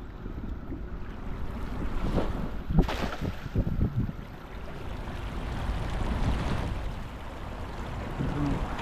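Wind buffeting at sea aboard a fishing boat, a steady roar with gusty rumbling and water wash, close to the microphone.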